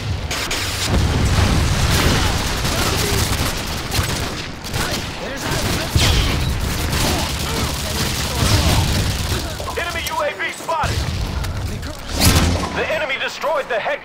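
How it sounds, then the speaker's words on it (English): Predator missile strike explosions amid heavy gunfire in a Call of Duty: Modern Warfare 2 match, with loud continuous blasts and rattling fire filling the whole stretch and a game announcer voice speaking over the din. "Friendly predator missile inbound."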